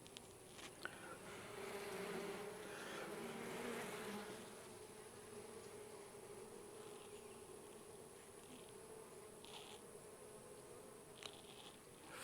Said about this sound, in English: there are a lot of bees on the inside